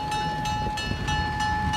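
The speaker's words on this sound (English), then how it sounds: "Oh, this is a good sized train today" A Downeast Scenic Railroad passenger train with coaches rumbles steadily past at close range, a continuous low roar with a faint rhythmic clatter and a steady high whine over it.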